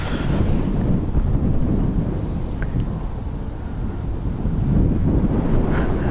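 Wind gusts buffet the microphone at Dublin Airport, a loud continuous low rumble that swells and eases without pause.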